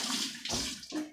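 Tap water runs steadily as canning tools from a jar-preparation kit are rinsed under a faucet, a close, continuous splashing wash with a brief dip and surge in the flow.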